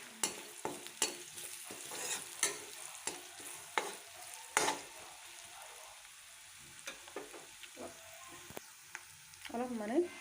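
Fish that has already been half fried is being stirred in a pan with turmeric, with sharp clinks and scrapes recurring over a soft, steady sizzle, close and moderately loud.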